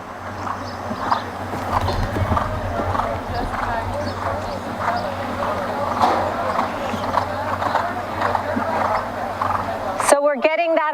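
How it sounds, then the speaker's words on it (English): During a show-jumping clinic a horse gallops around an arena, its hoofbeats a steady rhythmic thudding under ambient noise. An instructor talks over it near the end. "Let's see a forward gallop down, collection, and then a short turn around that red oxer"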